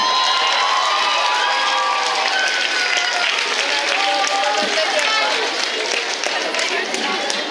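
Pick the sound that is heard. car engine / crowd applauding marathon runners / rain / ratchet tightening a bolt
crowd applauding marathon runners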